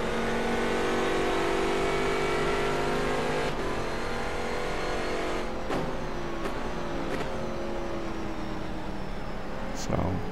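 Corvette race cars at Silverstone in the rFactor 2 racing game, a steady loud engine drone with shifting pitch as cars run close together, brief gear-change breaks, and a voice talking over it throughout.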